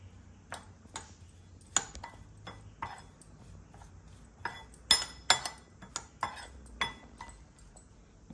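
A spoon clinks and taps against a glass or metal bowl while lemon juice is mixed in for a raw banana bajji dish, a quiet run of irregular, close metallic pings.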